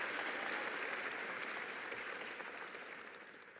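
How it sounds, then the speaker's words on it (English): Sustained audience applause at a Maryland Serves public event honoring AmeriCorps and Peace Corps service members, a dense, steady wash of clapping from a crowd that fades slightly toward the end with no talk over it. "they deserve a round of applause as well"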